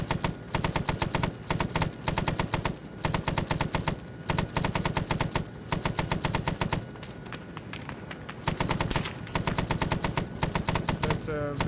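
Sustained bursts of machine-gun fire in the ARMA 3 military shooter, rapid rhythmic volleys repeating with brief pauses, loud and close with no talk over it.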